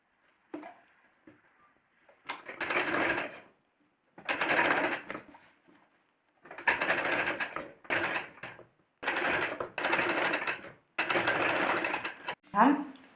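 A sewing machine stitches a kurta sleeve in about six separate bursts of fast rattling, each a second or two long, with quiet gaps between them and someone talking at times.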